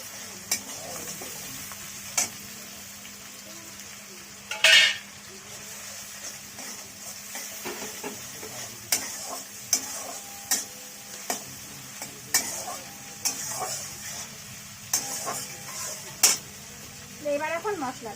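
Ginger, onion and garlic paste fries in a pan with green chillies, a low sizzle under frequent sharp clicks of a spoon stirring and scraping against the pot, with faint talk in places.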